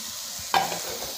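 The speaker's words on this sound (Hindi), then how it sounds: "थोड़ा सा भूंजने के बाद फिर हम प्याज डालेंगे" Onions drop into a hot pan while cooking aloo gobhi with soybean, setting off a sudden close burst of sizzling that settles into a steady fry.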